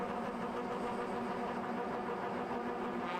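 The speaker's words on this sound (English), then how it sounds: "Red light is on, revs are building." Race car engines at Sandown Raceway build revs on the starting grid under the red light. The result is a steady, loud, sustained drone of several engines held at high revs with no break.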